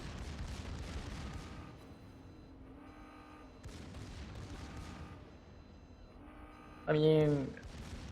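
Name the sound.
ship main guns firing in video game World of Warships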